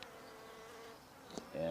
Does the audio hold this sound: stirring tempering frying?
no